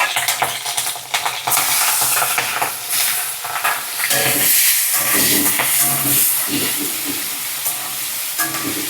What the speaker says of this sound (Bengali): এর মধ্যে দিয়ে দেবো সেই ইয়ামি কাঁচামরিচ এবং একই সাথে দিয়ে দিচ্ছি মাছগুলো।